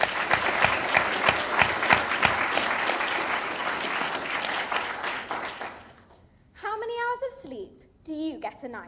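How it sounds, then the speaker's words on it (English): A FameLab audience claps in a sustained burst of applause that fades out, followed by brief speech from a presenter. "give Annabel a huge round of applause"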